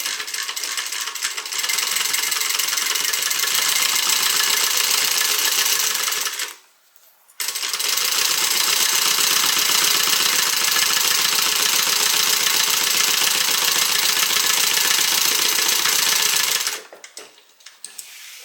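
A sewing machine runs steadily while back stitching a seam on a tote bag with a solid front and contrasting sides. The loud, continuous mechanical whir carries on for long stretches, with one brief pause and a stop near the end.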